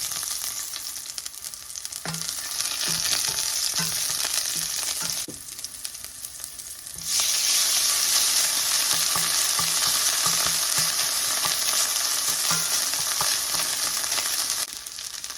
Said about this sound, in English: Now I'm going to fry the rice